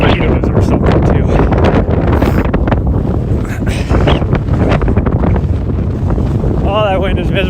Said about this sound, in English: Oh, that wind is miserable.